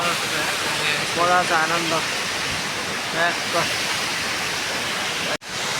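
Jalbire waterfall roars with a loud, steady, close rush of falling water, while someone talks briefly over it.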